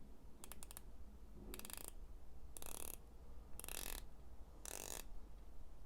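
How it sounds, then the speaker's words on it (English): A Proxima PX1711 watch's 120-click unidirectional ceramic bezel being turned, heard as five short bursts of rapid, crisp ratcheting clicks, close up and evenly spaced, with quiet pauses between them and no talking. "120 click unidirectional bezel. I'll let you take a listen."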